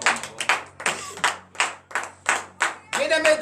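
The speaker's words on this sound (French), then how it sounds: "Donnez l'acclamation à l'Éternel" A congregation claps in acclamation at a Saturday morning prayer service in Comè, Benin, with about nine strong, steady claps in a quick even rhythm, close and loud, and a voice entering near the end.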